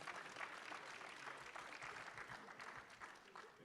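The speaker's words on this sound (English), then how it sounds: "A final round of applause." Applause at the close of a media briefing for a South Africa–EU bilateral meeting, steady clapping from a crowd, faint and distant, holding evenly throughout.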